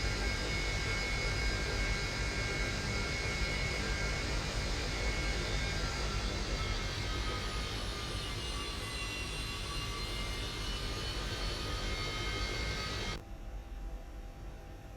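Airliner jet engines spool up and roar steadily through a takeoff roll in X-Plane 11, a loud broadband rush with a high whine layered on top, cutting abruptly to a quieter hum near the end.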